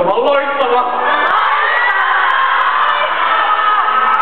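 Concert crowd at a show in Kuusankoski shouting and cheering together, a loud continuous roar of many voices with whoops throughout.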